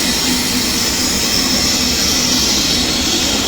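A steaming machine runs in a cracker and kemplang factory in Palembang, giving a continuous, even, loud hissing roar with no breaks.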